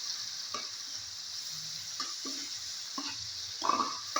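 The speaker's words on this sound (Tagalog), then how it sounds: "Halo natin yung bagoong." Bagoong shrimp paste with tomato being stirred in a frying pan, a soft sizzle underneath a few scraping spoon strokes close by, no talking.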